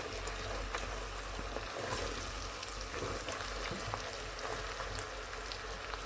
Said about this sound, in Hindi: चंद मिनट तक स्टर फ्राई करते हैं।